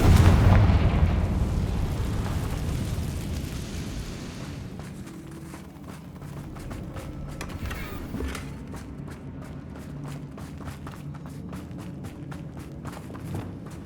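A Confringo spell blast in the Hogwarts Legacy video game opens with a loud, dense burst that slowly decays, followed by a busy rumble with sharp crackling pops and impacts.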